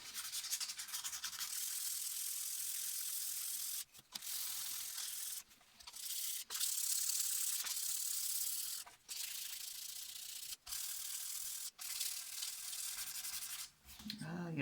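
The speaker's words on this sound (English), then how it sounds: "let me just get some sandpaper in here" A guitar body is rubbed with 500 grit sandpaper in repeated scratchy strokes, close and fairly quiet, broken by short pauses between passes.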